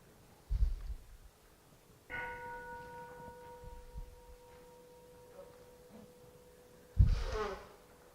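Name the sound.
meditation bell being struck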